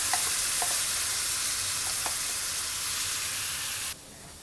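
Roma tomatoes sizzle and hiss loudly in a hot frying pan, a continuous frying crackle with a few small clinks, the sizzle dropping off abruptly near the end.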